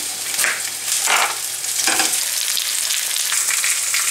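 Finely sliced courgettes fry in a pan with a steady close sizzle, broken by a few louder bursts of spitting and stirring, with no talk.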